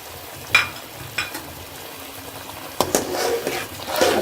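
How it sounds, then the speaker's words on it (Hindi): Lamb karahi frying in a pan as chili, turmeric, dried coriander and black pepper are mixed in, with a steady low sizzle and a few sharp scrapes and clatters of a spoon against the pan. "अब इसको हम अच्छी तरह से मिक्स कर लें।"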